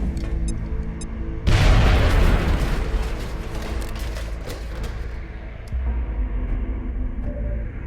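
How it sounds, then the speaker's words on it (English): A grenade goes off in a video game with a sudden loud boom that rolls into a long rumbling decay, followed by a softer thud a few seconds later over a steady game background. "Throwing grenade."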